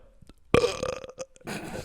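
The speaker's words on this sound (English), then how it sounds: "he doesn't want to burp into the mic" A single loud, close burp is let out straight into a microphone, a croaking belch that trails off in ragged bursts.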